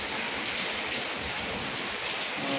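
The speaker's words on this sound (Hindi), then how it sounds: "और बारिश हो रहा है।" Steady rain falling on surfaces, a dense, even hiss of drops that continues throughout at a fairly loud, constant level.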